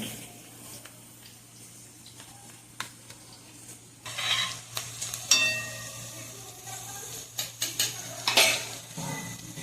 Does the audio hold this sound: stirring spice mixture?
yes